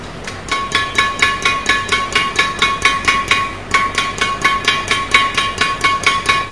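Badminton racket strung with Velet Ultramax Turbo Nano 66 at 27 lbs mains and 29 lbs crosses being tapped, giving a close series of crisp, ringing pings in a steady rhythm, about two dozen hits with a short pause midway.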